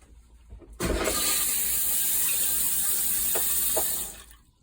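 Water rushes through a Thetford RV toilet valve, freshly lubricated and refitted after a leak: a sudden loud, steady gush starts almost a second in, runs about three seconds with a couple of faint mechanical clicks, then cuts off.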